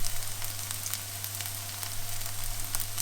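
Onions softening in a pan of oil for lentil dal give a steady, gentle sizzle with faint crackles, heard up close and alone under a low constant hum.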